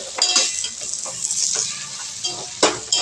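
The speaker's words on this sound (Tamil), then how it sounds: "எல்லாம் போட்டு மறுபடியும் கொஞ்சம் ஃப்ரை பண்ணணும்." Mushrooms and tomatoes fry in a pan with a bright, crackling sizzle while a spoon stirs them, scraping and clinking against the metal at irregular intervals.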